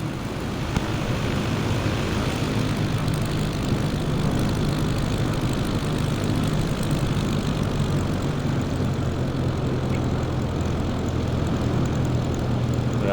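Steady propeller engine drone of a Cub Crafters light aircraft on the runway after landing, a constant loud hum with no change in pitch and no talk over it.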